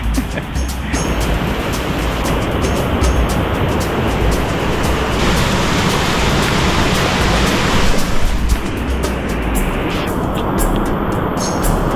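A rushing stream and waterfalls in the Guyana rainforest of the Atachi-Bakka mountains, a loud, dense, continuous roar of falling water heard up close, steady throughout with slight surges.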